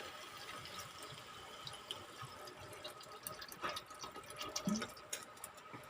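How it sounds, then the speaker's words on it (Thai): Water poured into a pot of Thai sour bamboo shoot curry with chicken wings and giblets, a soft, continuous splashing pour that grows a little louder toward the end, with no talking. "จะเติมน้ำเลยนะคะ"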